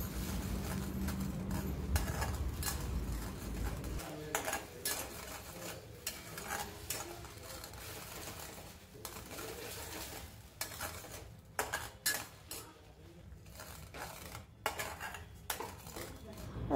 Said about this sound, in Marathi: 5 मिनिट मी परतून घेते हे मसाला